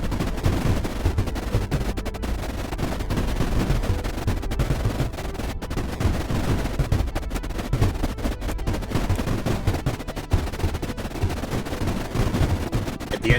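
A gunship's gun fires in the strategy game Creeper World IXE, a steady stream of rapid, loud shots rattling without pause over a constant dense background.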